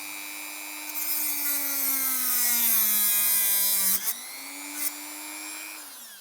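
A rotary tool with a cutting disc grinds through a metal spring, a loud high whine that dips in pitch under load for several seconds, briefly breaks off, then spins back up before winding down.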